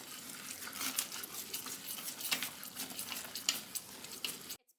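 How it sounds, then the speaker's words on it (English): A candy mixture is whisked in a pot, producing quiet, continuous swishing and scraping with irregular little bursts from the whisk. "we are just going to keep whisking"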